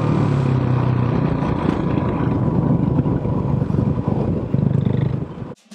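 A motorcycle passes on a road, its engine roaring loud and close for several seconds before cutting off abruptly.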